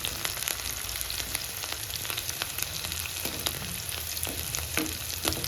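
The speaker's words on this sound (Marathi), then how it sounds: "जर कांदा कच्चा राहिला तर त्याला चव नाही येत, त्यामुळे त्याला लाल कलर येईपर्यंत भाजायचं." Onions fry in oil until they turn red, a steady crackling sizzle dense with quick pops and the occasional stir, close and moderately loud, with no voices.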